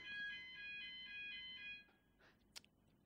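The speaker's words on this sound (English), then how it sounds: "We've got the fun alarm going off here." A steady electronic alarm beeps in a repeating tonal pattern for nearly two seconds, then cuts off, leaving a few faint clicks in a quiet room.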